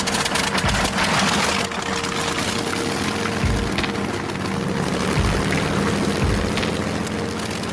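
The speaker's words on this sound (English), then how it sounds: "This is the legendary Rolls-Royce Merlin engine that powered the Spitfires and Hurricanes in the Battle of Britain" A Rolls-Royce Merlin piston aircraft engine, the type that powered Spitfires and Hurricanes, running with a steady droning hum broken by a few heavy low thuds, with no talk over it.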